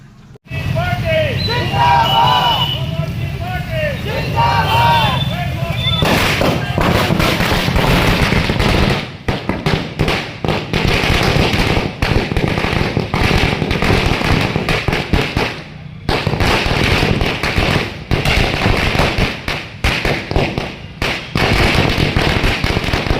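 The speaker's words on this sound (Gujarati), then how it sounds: "ફટાકડા ફોડીને ખુશી વ્યક્ત કરવામાં આવી હતી" Firecrackers burst at a street celebration in Talaja after an election win, in rapid, crackling volleys, loud and continuous, with dense popping overlapping throughout and no clear pauses.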